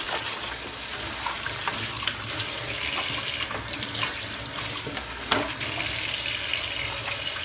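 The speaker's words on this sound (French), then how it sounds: "Ou vide de l'eau." Water pours and splashes steadily into a basin or sink, a close, continuous rushing hiss with small surges and no talking.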